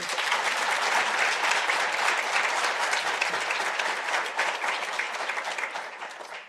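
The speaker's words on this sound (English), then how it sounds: "Governor Lesetja Kganyago deserves a firmer round of applause, ladies and gentlemen" Sustained round of applause from a large audience honoring Governor Lesetja Kganyago at an emerging-markets event, dense steady clapping filling the room, gradually thinning and fading toward the end.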